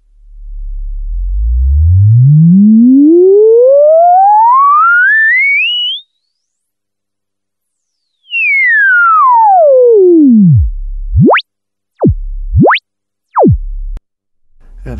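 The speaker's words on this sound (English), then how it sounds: "Resonance has a very pleasing sine wave self-oscillation at lower frequencies." A pure sine tone from a self-oscillating resonant Tonus VCF Eurorack 4012 filter module, adapted from the ARP 2600, sweeps smoothly upward to a high pitch, cuts out, then glides back down and ends in a few short sharp chirps, loud and electronic.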